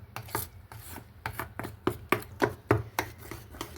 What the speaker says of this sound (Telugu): గోధుమ పిండి వేసుకొని బాగా మిక్స్ చేసుకోవాలి